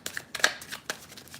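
A tarot card deck being shuffled, quick soft riffling and flicking of cards in short bursts, close and fairly quiet.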